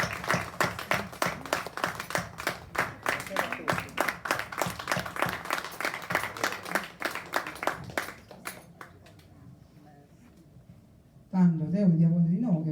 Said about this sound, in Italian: Un applauso vero e proprio